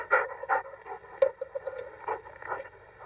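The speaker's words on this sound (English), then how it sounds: "The dogs." Dogs panting close by, a steady run of quick rhythmic breaths with soft whimpering tones, moderately quiet, with no speech.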